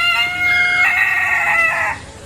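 A chicken at Baluarte Zoo gives one loud, drawn-out crowing call close by, lasting about a second before cutting off, over quiet outdoor background.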